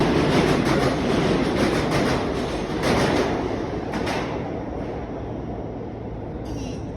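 A New York subway R160E train roars past close by, loud clattering wheels and rumble that gradually fade, ending with a short high screech.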